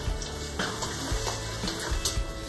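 Sloppy joe mixture with green chilies, green and red peppers and onions cooking in a pan, giving a steady sizzle with occasional scraping stirs and soft clinks, no voices.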